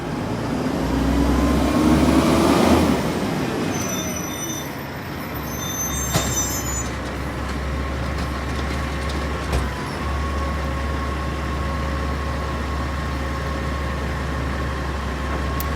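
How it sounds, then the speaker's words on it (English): An LA Sanitation garbage truck's engine runs with a steady low rumble and a whirring, fan-like hum, heard up close from the roadside, with a brief swell of louder mechanical noise early on. "This truck sounds a little odd. Like it sounds like the fan or something is running."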